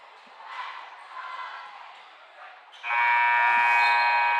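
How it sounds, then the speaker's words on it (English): A long, loud electronic buzzer ends a varsity high school basketball game in a gym. It cuts in sharply after quieter crowd and commentary and holds steady to the end. "Off the back of the rim as the buzzer sounds and the game will end"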